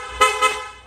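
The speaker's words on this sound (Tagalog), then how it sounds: "Loud horn." A loud horn on a Honda Click V3 scooter gives two short, close blasts in quick succession, ringing clear and bright with nothing else heard.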